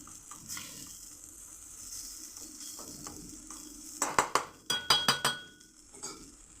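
Kachori filling is sautéed over medium heat in a pan, a soft continuous sizzle under scraping stirs, then a quick cluster of sharp metallic clinks from a spoon striking the pan near the end.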